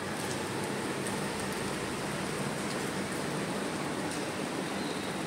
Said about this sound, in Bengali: তো এই যে বৃষ্টি পড়ছে